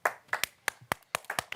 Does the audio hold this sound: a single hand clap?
yes